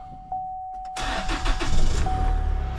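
A 2.8L Duramax diesel engine with a newly replaced starter cranks briefly after a chime, then catches and settles into a loud, rough idle close by.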